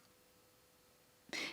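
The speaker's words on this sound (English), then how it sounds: "I'll be coughing a bit" Near-silence, then a single short throat clear or cough from a person who is sick bursts out close up right at the end.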